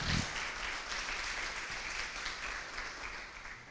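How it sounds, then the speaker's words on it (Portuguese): Church congregation applauds during a sermon, a continuous even roar of many hands clapping at moderate distance, steady throughout with no speech over it. "Vamos aplaudir o Senhor?"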